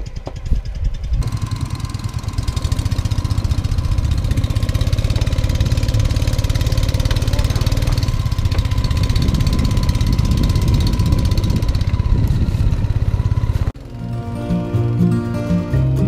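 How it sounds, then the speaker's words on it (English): The engine of a motorized bamboo boat in Khao Sok National Park runs loud and close with a steady mechanical chug, then cuts out abruptly near the end, leaving quieter rattling. "We're on the bamboo boat."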